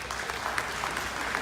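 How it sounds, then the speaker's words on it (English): A brief burst of steady clapping from a conference audience at an ophthalmology society presidential address, many hands together at moderate volume with no voices over it. "everybody should give an applause to the LOC"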